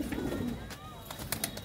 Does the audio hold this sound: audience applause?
no